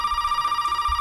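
A telephone rings in the Resident Evil 7 video game with a steady, bright electronic tone that pulses slightly, loud and alone for about a second.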